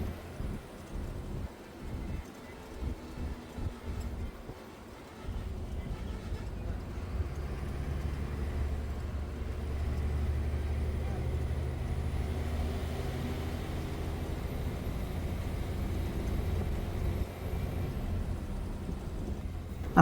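Steady low rumble and broadband vibration fill the cabin of an Asia Line Mercedes bus travelling at night on a rough road, with faint rattling under a constant road drone and no talk.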